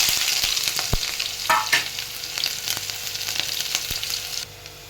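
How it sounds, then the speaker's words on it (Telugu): Chopped onions hit well-heated oil in a pan for a mushroom curry, giving a loud, close, continuous sizzle with a few sharp clinks and stirring scrapes before it stops abruptly near the end. "ఆయిల్ బాగా వేడెక్కింది తర్వాత అందులో తల్లి తరిగిన ఉల్లిపాయలు వేస్తున్నాను చూడండి"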